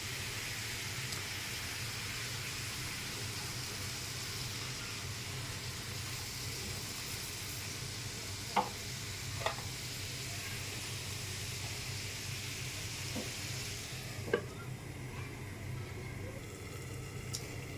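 Pumpkin slices fry in a pan for a pumpkin chorchori with green chilies, giving a steady, even broadband sizzle throughout, with a few brief clicks from utensils or the lid, with no talking.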